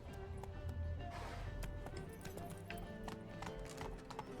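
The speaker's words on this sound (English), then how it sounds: "Run, Roach" Hoofbeats of a galloping horse in The Witcher video game, a steady rapid clip-clop running throughout under a busy layer of ambient game sound and music, with a brief whinny-like sound early on.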